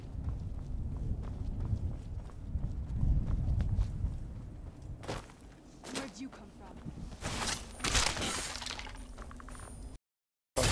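Hooves clip-clop in an irregular rhythm from a conjured horse in Skyrim, with scattered clinks and thumps over a rumbling background.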